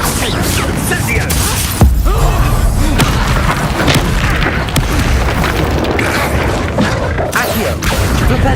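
A fire spell detonates in the Hogwarts Legacy video game, part of a chaotic magic battle: loud booms, crashes and impacts tumble over one another, with game effects crowding the fight.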